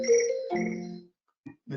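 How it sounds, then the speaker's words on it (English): A mobile phone ringtone sounds during a talk at a recycling conference, a short melodic tone phrase that cuts off, followed by a brief pause and the start of a voice. "I thought I turned my phone off."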